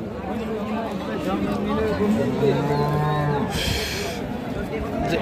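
Cattle lowing at a busy livestock market where Sahiwal and Deshal cows with calves are sold, several long loud moos rising over crowd babble while people talk nearby.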